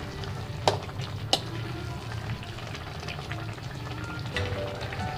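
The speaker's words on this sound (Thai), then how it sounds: "เอาไปผัดกับน้ำกะทินะคะ" Steady sizzling as fish is stir-fried with coconut milk in a pan on a gas stove, with a couple of sharp clacks of a utensil against the pan near the start.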